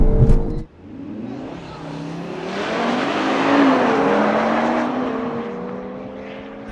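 A tuned 450hp BMW M240i and a tuned 460hp Audi RS3 launch side by side in a drag race, with a sudden loud engine roar climbing through revs and a sustained high-pitched whine as the cars pull away, no talk.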